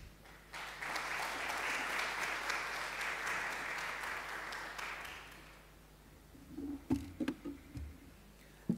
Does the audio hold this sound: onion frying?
no